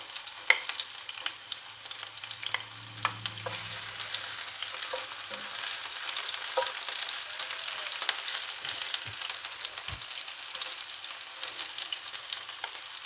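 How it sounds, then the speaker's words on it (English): Onion and pepper sizzle steadily in hot oil in a pan, a continuous close frying hiss with scattered pops and a few soft utensil knocks. "I have a pan that is heated with oil, and I'm going to add the onion and the pepper first."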